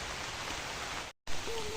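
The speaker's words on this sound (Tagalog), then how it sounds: "Lakas ang ulan." Heavy rain pours in a steady dense hiss, briefly cut to silence before resuming just as loud.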